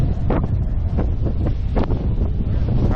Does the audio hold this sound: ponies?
no